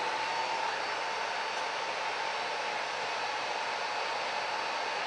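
A Miele vacuum cleaner runs in a steady, unbroken whooshing roar close by, filling a room during a wildfire smoke test, with no voices.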